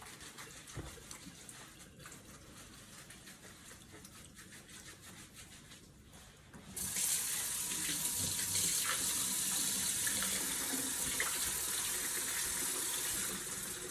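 Tap water runs into a sink over potatoes being washed, starting quieter and becoming a loud, steady gush of running water for the second half, with no talk.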